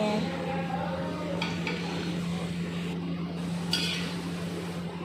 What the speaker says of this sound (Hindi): इधर कढ़ाई में पकौड़ियाँ छुन्न निकल रही हैं